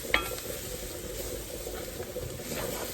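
Smothered fried chicken sizzles steadily in a very hot cast iron pan on low heat, a continuous close frying hiss with faint crackles and a brief utensil clink near the start.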